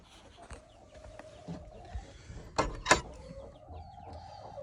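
Two faint rooster crows ring out in the distance over quiet farmyard background noise, with a couple of sharp clatters in between.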